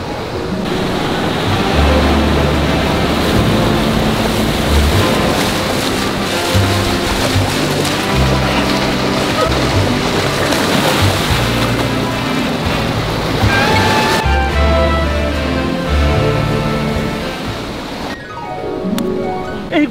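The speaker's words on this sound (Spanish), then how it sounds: "Disfruta el mar, güey, mira." Ocean waves roll in at a beach, a loud, continuous roar of surf and churning water that fills the whole stretch with no voices over it.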